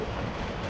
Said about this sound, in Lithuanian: Užėjo debesiūkštis ir duoda mums gūsį